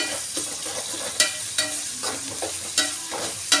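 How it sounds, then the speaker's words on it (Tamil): Food sautés in a pan at home, a constant sizzle broken by repeated scraping stirs of a utensil at a steady pace, close up. "நல்லா வதக்கணும்."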